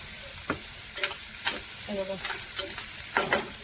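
Garlic and onion sizzle in a pan under a string of regular spatula scrapes and taps, close and fairly loud, with a brief murmur of voice in the middle.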